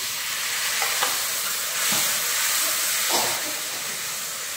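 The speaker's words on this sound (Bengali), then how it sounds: "এবার এটাকে জল দিয়ে কষিয়ে নেব" A spice masala of salt, turmeric, chili powder and coriander-cumin powder cooks down with water in a pan, giving a loud, steamy hiss and sizzle. Slow stirring strokes rise and fade about once a second.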